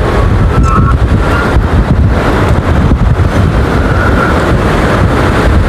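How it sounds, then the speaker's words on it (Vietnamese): Strong, gusty wind roars steadily across an open outdoor field where a bird-decoy flute kite is flying, a loud continuous buffeting rush with surging gusts and faint higher whistling tones, no voices. "Gió giật như gió rông luôn."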